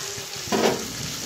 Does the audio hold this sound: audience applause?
no